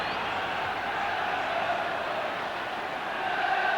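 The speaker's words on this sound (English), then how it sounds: "Just listen to the Goodison Park crowd getting behind their side now." The Goodison Park football crowd roars behind Everton in a continuous, loud swell of massed cheering and chanting that stays steady and dense from start to finish.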